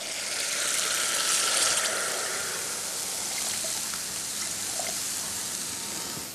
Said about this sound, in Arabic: بقلي البندورة المطحونة معهم.